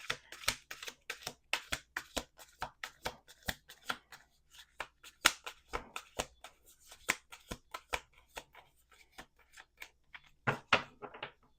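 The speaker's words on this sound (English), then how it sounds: "We're gonna do 2 more shuffles." Rapid, crisp riffling and slapping of tarot cards, repeated in quick bursts with short pauses, close up and fairly quiet, with a flurry near the end.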